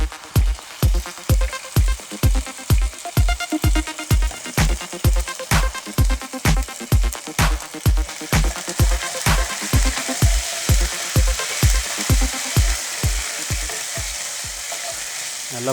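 Ginger paste and red chillies frying in hot oil for an ivy gourd stir-fry, a loud steady sizzle cut by a quick regular series of sharp stirring knocks that soften toward the end.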